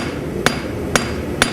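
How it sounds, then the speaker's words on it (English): The round face of a hammer strikes metal three times in an even rhythm about half a second apart, each blow a sharp, close ringing tap with nothing else heard. "So I'm tilting the round side of my hammer here, which is allowing me to get in there and push the material around how I want."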